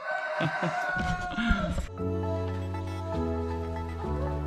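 A rooster crows loudly in the first two seconds at sunrise on Lake Atitlan, then music with steady sustained tones takes over for the rest.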